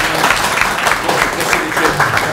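Crowd at a Belgrade political campaign rally applauding the introduction of a mayoral candidate, with steady, dense clapping throughout at a loud, even level.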